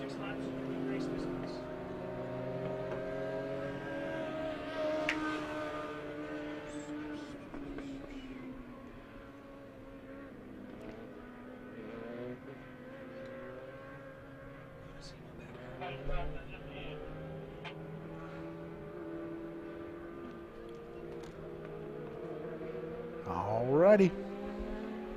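Legend race cars at Monett Motor Speedway droning steadily around the track in a heat race, engines rising and falling at a middle distance under a track announcer's voice.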